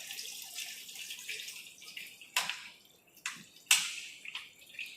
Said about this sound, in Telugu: వాటర్ పడుతున్నా అక్కడ